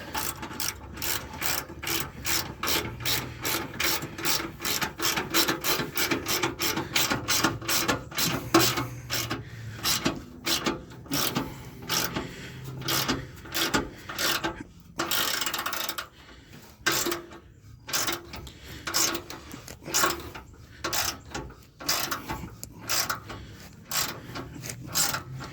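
A ratchet tightens steel bumper bolts on a Jeep JK, rapid clicking strokes in dense bursts, loud and close, later breaking into shorter spaced runs of clicks.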